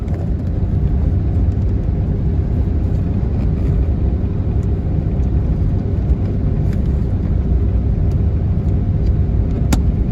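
Car cruising along Florida Highway 40 West toward Astor, a steady loud low road rumble and engine drone throughout with no break or change.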